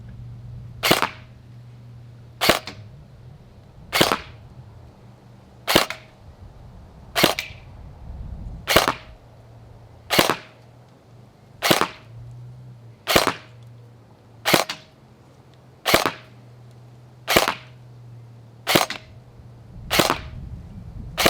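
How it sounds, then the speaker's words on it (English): Single shots from an LDT UMP45 gel blaster firing gel balls on an outdoor skirmish field, sharp cracks spaced about every one and a half seconds, loud and close over a low steady hum. "First up, I'll check the velocity of the blaster."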